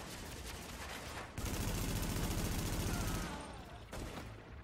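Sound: light machine gun fire in the video game The Division

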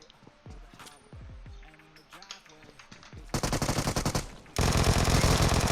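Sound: Vector gunfire in the video game PUBG Mobile

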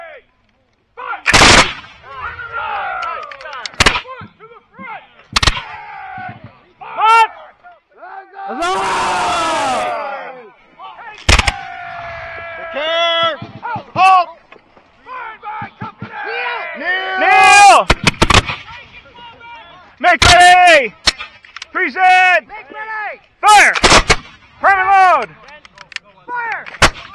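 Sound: musket and cannon volley fire at a Hubbardton battle reenactment

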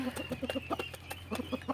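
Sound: hen clucking

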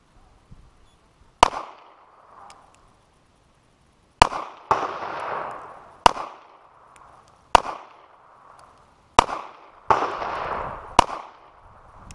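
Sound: gunshots at a shooting range

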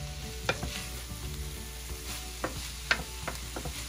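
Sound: stir-frying yakisoba with ground chicken and cabbage

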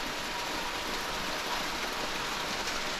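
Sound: water dripping from cave ceiling, Grand Snake Canyon, Oman

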